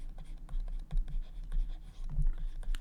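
Pen scratching on paper while writing out a Class XII integration solution, a close series of irregular strokes and taps with brief pauses between them, no talking.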